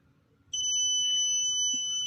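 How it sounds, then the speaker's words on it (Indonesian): Fingerprint door lock buzzer sounding after an unregistered finger is rejected: a steady, loud electronic tone, two pure pitches held continuously, starting abruptly and continuing to the end, with faint room noise underneath. "Buzzer berbunyi."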